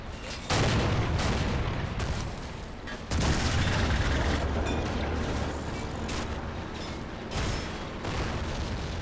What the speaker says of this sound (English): Taking heavy fire over here.